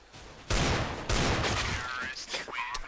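Rapid bursts of automatic gunfire in the video game CS:GO during a competitive match on the Cache map, loud and close with a brief lull between volleys.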